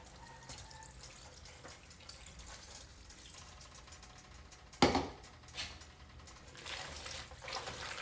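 Milk poured into a pan while making homemade hamburger helper, a soft steady liquid stream with one louder splash partway through, close and fairly quiet, with no talking.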